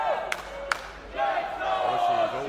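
A wrestling crowd chants and yells in a loud arena, voices rising together in drawn-out calls after a couple of sharp pops, with a commentator's voice mixed in.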